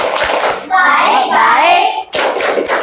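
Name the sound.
children clapping hands in the 'Tepuk apa kabar' clap chant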